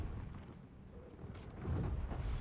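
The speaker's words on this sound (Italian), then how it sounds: "Ma un cannone, ci hai esagerato." Cannon fire in the video game Nioh 2: low, rumbling booms at moderate loudness, with a heavier blast swelling in around the midpoint and holding to the end, with no talk over it.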